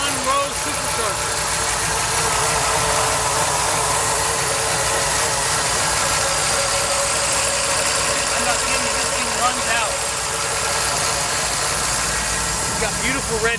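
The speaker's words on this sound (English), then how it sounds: "It's got that V-10 Viper motor with a supercharger on it." The supercharged V-10 Viper engine of a 2005 Dodge SRT-10 with custom exhaust idles steadily, a dense, loud and continuous rumble with someone talking over it.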